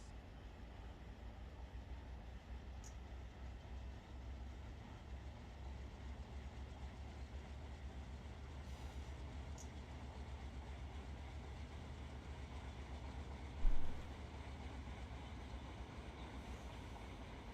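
A train in the Run 8 Train Simulator game rumbles along, a quiet, steady low drone with a brief louder bump near the end.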